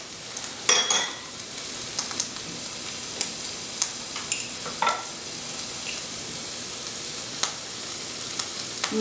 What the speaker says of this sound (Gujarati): મારી ડુંગળી ને મરચાં છે ખાલી હાઈ ઉપર હમણાં તરાય છે